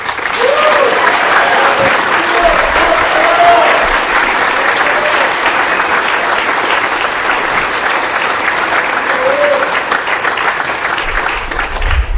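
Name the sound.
audience applause celebrating award honorees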